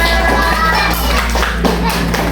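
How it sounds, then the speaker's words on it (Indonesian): Class of children clapping together for a fruit-named group, a loud, dense burst of hand claps close by with a steady low hum underneath. "tepuk buat kelompok durian"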